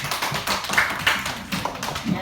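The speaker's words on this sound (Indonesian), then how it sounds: "Tepuk tangan untuk kita semuanya." Children in a primary school classroom clap together at close range, a dense burst of quick overlapping hand claps with scattered voices mixed in.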